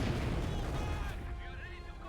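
Heavy mortar fire in the video game Company of Heroes 2, a loud booming blast that rolls off over about two seconds, with commentary talk over it.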